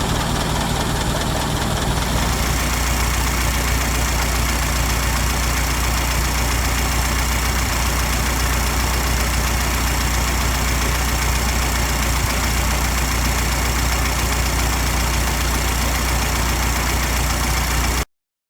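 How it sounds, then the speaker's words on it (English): A Ford Model T engine idles steadily and loudly, a constant low rumble with an even mechanical chug that continues uninterrupted until it suddenly cuts off. "let the engine run"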